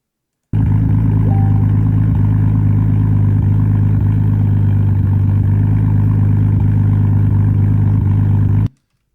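A Nissan Skyline's engine runs steadily at close range, a loud, even idle with a deep low rumble that holds unchanged for about eight seconds, then stops abruptly.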